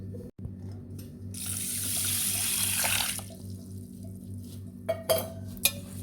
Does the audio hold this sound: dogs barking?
no